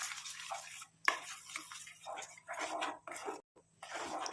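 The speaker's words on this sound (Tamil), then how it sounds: "கொஞ்சம் நல்லா இந்த மாதிரி மிக்ஸ் பண்ணி விட்டுக்கிட்டே இருங்க" Urad dal and carrot paste being stirred in a pan on the stove, a close spoon scraping and swishing in repeated strokes with short pauses, a faint low hum underneath.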